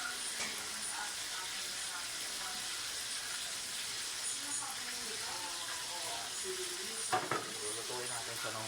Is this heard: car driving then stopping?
no